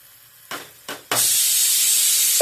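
Pressure cooker venting steam: two short puffs, then a loud, sustained high hiss that carries on steadily to the end, close by.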